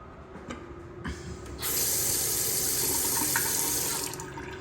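A bathroom faucet in a renovated hotel room at Bally's Atlantic City runs steadily, water splashing into the sink with a bright hiss after a brief start, then easing off near the end.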